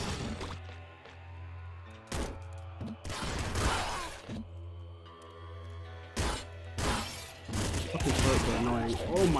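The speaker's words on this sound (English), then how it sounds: "Oh my god, the explosions." Repeated loud blasts and crashing bursts from explosions in the video game Nuclear Throne Ultra Mod, some overlapping, with steady background game sound between them.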